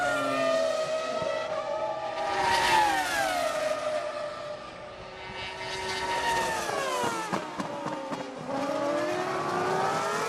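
Formula 1 cars at the 2005 French Grand Prix, a Renault chasing a Ferrari, loud high-revving engines screaming past with rising and falling pitch sweeps and gear changes, one car closely following another.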